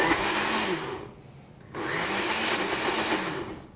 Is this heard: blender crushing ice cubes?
yes